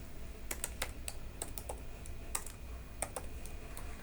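Code being typed on a computer keyboard: quiet, irregular clicks of keys pressed in short bursts, close to the microphone with a faint background hum.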